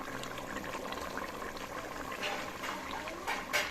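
Water splashing and trickling as fresh coriander is rinsed while making tinda and mutton curry, a soft continuous stream with small splashes, faint and without speech.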